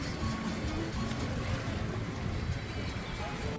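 A boat out on Fateh Sagar Lake in Udaipur at sunset gives a steady low rumble, with wind buffeting and water washing around it at an even, fairly loud level throughout.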